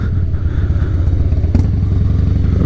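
A Harley-Davidson Nightrain with a balance-shaft Twin Cam B engine runs nearby, a loud, steady low-pitched rumble with a rapid pulsing beat and a brief clatter midway.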